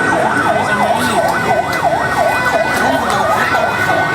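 Ambulance sirens wail steadily in a rising and falling pattern at the scene of a commuter train crash at Bekasi Timur station, loud and continuous over traffic noise.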